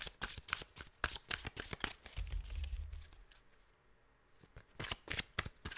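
Tarot cards being shuffled close up in quick riffling bursts, repeated rhythmically with a short lull in the middle.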